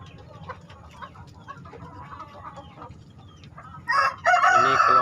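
Free-range native village chickens cluck softly in a backyard flock, then a rooster crows loudly twice near the end, close and clear over faint background chatter.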